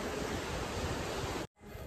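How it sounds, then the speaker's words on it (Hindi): Sea waves heard at night from a hotel rooftop in Rameswaram, a steady broad wash of surf noise with a brief cutout before it resumes, no voices. "और समुद्र की देखो कितनी प्यारी प्यारी आवाज सुनाई दे रही होगी आपको, आप सुनोगे देखो कितनी सुंदर आवाज आ रही है बिल्कुल लहरों की"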